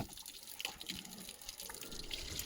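Dusty air-conditioner filter rinsed under running tap water, a faint continuous splashing and trickle with small drips, quiet and close.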